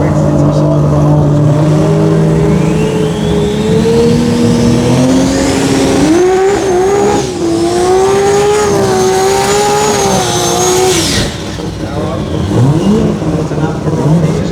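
A Lexus drag car doing its burnout at the Garrett Brisbane Jamboree drag race, a loud sustained engine roar with rising revs that cuts off near the end, an announcer talking over it.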